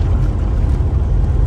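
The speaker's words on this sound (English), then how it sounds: "the engine noise is not so loud" An off-road vehicle engine on an outback route near Ayres Rock, a low constant rumble and drone close by with no letup across the short stretch.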